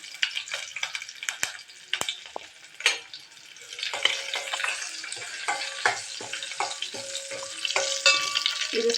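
Curry leaves and dried chillies fry in hot oil in a pan, sharp spitting crackles and pops, close up, bursting irregularly over a hissing sizzle that builds toward the end.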